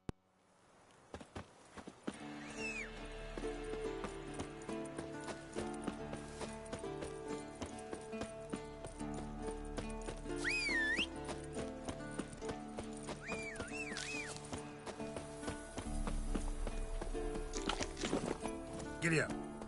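Horse hooves clip-clop steadily through a fantasy video game scene from The Witcher, with an occasional neigh or whinny, set under a continuous orchestral music bed and a narrator's voice.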